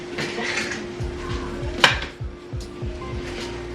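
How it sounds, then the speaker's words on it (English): Heavy pan being handled in a home kitchen, a series of low metallic knocks and scrapes with one sharp clank near the middle, set against a steady electrical hum. "I guess I'm gonna use this. This is a heavy pan."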